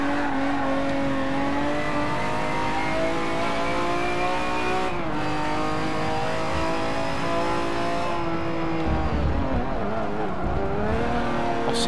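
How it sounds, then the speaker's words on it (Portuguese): A Lamborghini race car engine in Forza Motorsport 7 screams steadily as it accelerates down a straight, rising in pitch through the gears with short shift dips, loud and continuous, no talking. "Só curtindo a potência da Lamborghini aqui, no retão."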